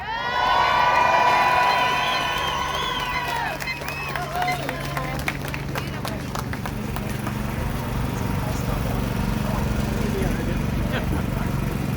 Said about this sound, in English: Just give her a big cheer.